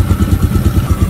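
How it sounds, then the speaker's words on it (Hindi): Motorcycle engine idling after a cold start, a loud, close, even thumping rhythm of rapid low putters with a slight mechanical clatter, no talk over it. "बाइक को कोल्ड स्टार्ट कर लेते हैं"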